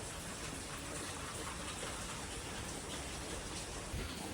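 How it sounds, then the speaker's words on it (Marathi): Heavy night rain pours down in a steady, even hiss and patter, quite faint and distant, with no voices. "एवढा पाऊस आहे."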